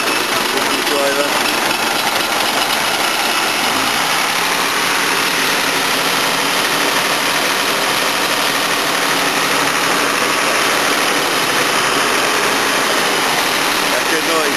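A car engine running after repair under the bonnet, a constant loud rumble and roar that stays steady throughout, with voices talking faintly beneath it.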